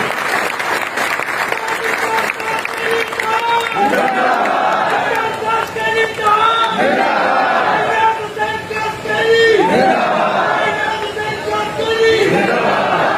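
Rally crowd at a party founding-day event in Sindh claps and cheers loudly and continuously, a dense sustained wash of applause with shouting and chanting voices rising in waves throughout.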